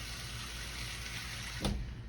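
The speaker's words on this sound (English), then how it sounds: "I'm gonna put a little water in here, just a little, and I don't need a lot." A little water is poured into a roasting pan holding a whole seasoned duck. A soft, steady watery hiss is cut by a brief splash near the end, close and fairly quiet, with no talking.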